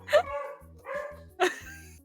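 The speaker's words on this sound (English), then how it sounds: "it's gotta be an angry dog" Angry dog barks in three sharp, close bursts, each trailing into a rough growl, with low rumbling between the barks.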